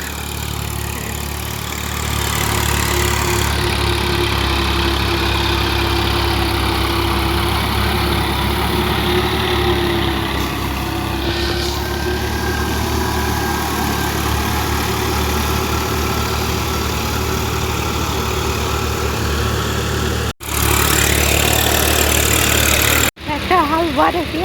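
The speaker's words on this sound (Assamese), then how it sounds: "এইফালে এখন ট্ৰেক্টৰে হাল বাই আছে" Tractor engine in a paddy field during ploughing, a steady low diesel drone running throughout at close range, with brief breaks near the end and some speech mixed in.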